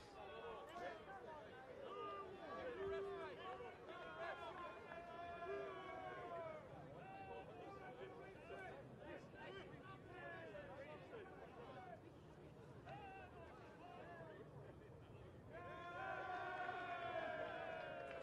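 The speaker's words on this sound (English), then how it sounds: "You can hear the crowd in the background" A football crowd at a Rockdale City Suns versus Marconi Stallions match at Ilden makes a steady roar and hubbub throughout, swelling louder near the end, with voices mixed into the noise.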